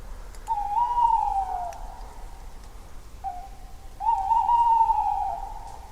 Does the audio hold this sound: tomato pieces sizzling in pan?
no